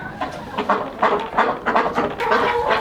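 Barred Rock hens cluck steadily in a rapid, overlapping rhythm, loud and close, with no voices over them.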